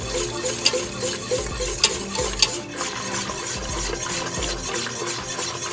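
A whisk working a cornstarch mixture with corn in a pot, steady rapid scraping and swishing against the metal with occasional sharper clinks, close and continuous.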